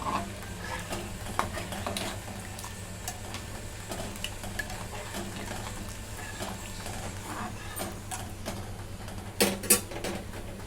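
Faint stirring of mutton curry in a pot after coconut milk is poured in, soft scrapes and clinks of a spoon over a low background hum, ending with a couple of sharper knocks.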